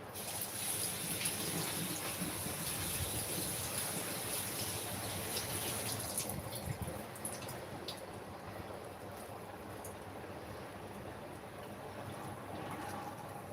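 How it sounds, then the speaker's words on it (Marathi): Water heating toward a boil in a pot on a gas stove, a continuous soft bubbling and rushing hiss, close and steady, easing slightly partway through, with no talk. "इथे आपण गॅसवरती पाणी उकळण्यासाठी ठेवलेलं आहे"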